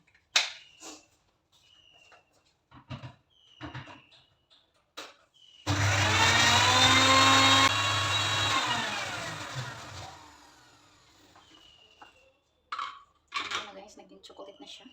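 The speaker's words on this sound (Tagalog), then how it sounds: "Tapos i-blender natin." An electric blender whirs loudly for about four seconds as it grinds Oreo chocolate cookies with a little milk, then winds down, framed by clinks of utensils and kitchen handling before and after.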